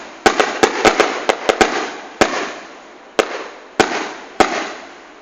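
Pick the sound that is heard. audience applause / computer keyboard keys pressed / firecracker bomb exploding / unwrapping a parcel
firecracker bomb exploding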